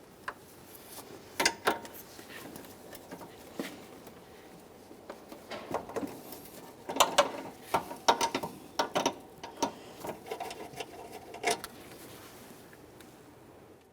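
A 13mm ratchet loosens the AC line nut on a 1998-2011 Ford Ranger 2.3L, sounding as quiet bursts of rapid pawl clicking with pauses between strokes, close up and faint.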